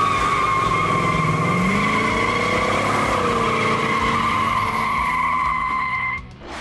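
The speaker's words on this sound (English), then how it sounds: "they mandated a burnout or two" A 1971 Plymouth Hemicuda convertible with a Hemi V8 doing a burnout, loud sustained tire squeal over a roaring engine that holds steady for several seconds and then drops off abruptly near the end.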